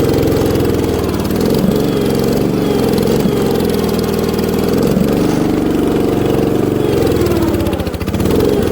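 A 1960s Terra Mite small engine runs steadily and loudly up close, a continuous buzzing drone with slight rises and dips in pitch, heard alone without any talking.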